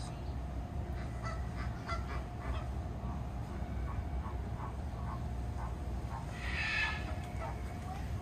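A Japanese wood pigeon, a black wood pigeon of the national natural monument species, calls in a series of soft hooting pulses with no talk over it.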